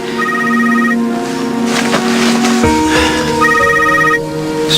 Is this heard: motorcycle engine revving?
no